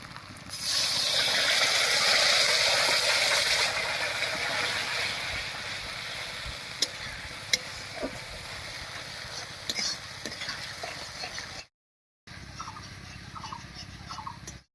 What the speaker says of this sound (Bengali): মশলা বাটা জল দিয়ে খুব ভালো করে কষিয়ে নেব